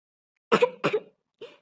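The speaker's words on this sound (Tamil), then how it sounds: "இருமுறீங்க? கோல்டா?" A person, apparently ill with a cold and feverish after getting soaked in the rain, coughs twice in close succession, then gives a third, softer cough after a brief pause, with silence around it.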